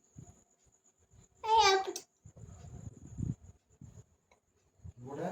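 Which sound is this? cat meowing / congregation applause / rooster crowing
cat meowing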